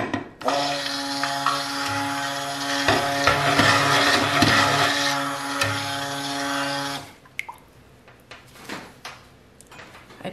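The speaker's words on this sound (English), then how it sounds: "apologize to those that don't like it when I just take the stick blender out" A stick blender whirs steadily through soap batter for about seven seconds, loud and continuous, then cuts off, leaving a few light knocks and clatters alone afterward.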